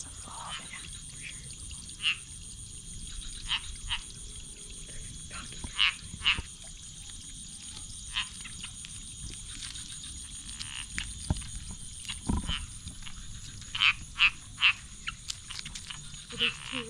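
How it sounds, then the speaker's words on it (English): Frogs croak in Bali rice paddies, short sharp calls repeating irregularly over a steady high insect drone, some near and loud, others farther off. "That's a frog."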